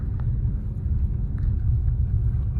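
A 2024 Maruti Suzuki Grand Vitara climbs a steep off-road slope, its engine giving a loud, steady low rumble throughout, with no talking.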